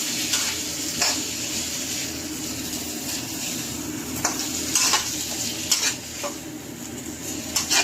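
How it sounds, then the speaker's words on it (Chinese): Vegetables sizzle steadily in plenty of hot oil in a pan, a continuous close frying hiss broken by sharp clinks and scrapes of a utensil against the pan, with no talking. "菜里确实是有不少油啊，一加进来它就开始滋滋叫了。"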